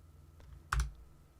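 A single soft, close computer mouse click on a Google account button in a quiet room.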